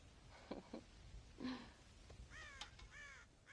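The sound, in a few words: crows cawing in video game Red Dead Redemption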